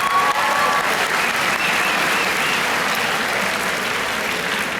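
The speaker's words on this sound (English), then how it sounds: "Let's start by giving yourselves a big round of applause." A large crowd of first-year college students gives themselves a loud, continuous round of applause in a big hall, the dense clapping holding steady throughout.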